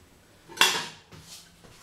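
A knife cuts through a vegan quiche on a plate, giving one sharp clink of metal on ceramic followed by softer scraping and a faint second tap.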